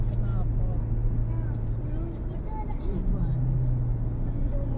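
Steady low rumble of engines from cars and minibuses crawling in a traffic jam on the Jagorawi toll road, continuous and moderately loud.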